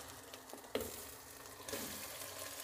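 Raw chicken is added to a hot pan with cumin and cloves and fries with a faint, continuous sizzle, with a couple of soft clunks and a louder surge partway through.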